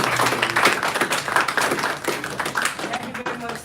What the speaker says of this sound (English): I think he deserves a big clap